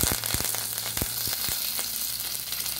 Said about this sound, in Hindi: अभी घी गर्म हो रहा है, अभी इसमें मैं थोड़ा राई डालूँगी और कड़ी पत्ता भी डालूंगी।